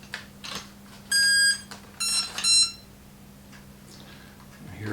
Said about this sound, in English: Here are little beeps.